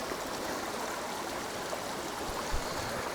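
Crocodile River near its source in Gauteng, South Africa, flowing where it meets the main river, a steady broadband rush of moving water with no talk, one brief low thump near the end.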